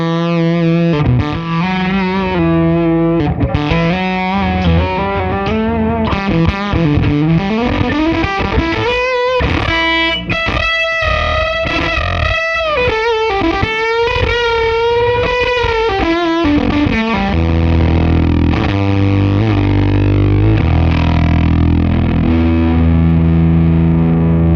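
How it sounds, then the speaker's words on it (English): Electric guitar played through a J Rocket Hooligan Fuzz pedal set to a weird, wacky tone, loud and close, with sustained gliding bent notes and warbling pitch sweeps before ending on heavy chugging low chords. "this is the Hooligan Fuzz by J Rocket, and it sounds pretty cool"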